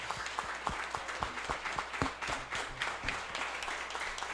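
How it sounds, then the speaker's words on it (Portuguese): A church congregation applauds during a Wednesday service, a dense crowd of clapping hands with rhythmic sharp claps audible throughout, moderately loud and steady, with no talk over it. "Vamos aplaudir o Senhor, Ele merece."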